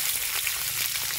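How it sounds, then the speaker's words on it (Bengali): Whole cumin, dried chili and garlic fry in hot oil with a loud, dense, constant sizzle close by, and no talking. "প্রথমে তেলটা দিয়ে দেওয়া হলো, তেলটা দিলাম, গোটা জিরে দিয়ে দেবো, শুকনো লঙ্কা আর রসুন।"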